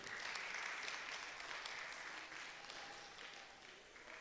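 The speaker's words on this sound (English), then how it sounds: "Can we clap our hands together," An audience claps its hands together at a gathering, a steady, fairly even round of applause that eases slightly toward the end, with no voices over it.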